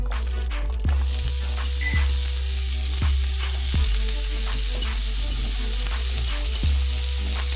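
Half an onion sizzles and fries in melted butter on a stovetop at medium-high heat, a steady close crackle broken by roughly six regular spoon or spatula knocks against the pan, with no talking.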